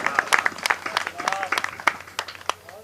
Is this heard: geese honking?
no